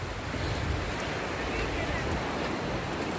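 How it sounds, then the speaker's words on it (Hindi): Sea waves wash onto an empty beach in a steady, broad rush, mixed with gusty wind noise across the microphone, continuous and fairly loud for the whole stretch. "और ये देखो पानी आ रही है"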